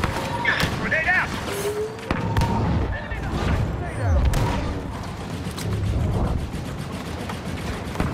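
A grenade blast in Star Wars Battlefront II sounds amid chaotic battle noise, with booms and blaster fire layered over a busy combat soundscape while a voice speaks.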